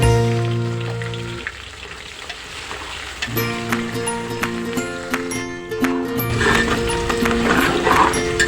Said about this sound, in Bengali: পেঁয়াজ কুচি ভেজে নেব